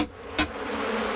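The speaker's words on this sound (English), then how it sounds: "kill the bees!" Cartoon bees from The Simpsons buzz in a steady, continuous drone that fills the short moment, with a brief louder burst early on and no talking over it.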